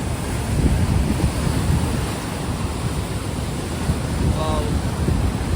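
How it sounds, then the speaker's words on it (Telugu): Ocean waves wash steadily onto Bheemili Beach in Vizag at night, a broad continuous surf roar with wind buffeting the microphone and no clear talk. "ఇది వైజాగ్ భీమిలీ బీచ్ బ్రో"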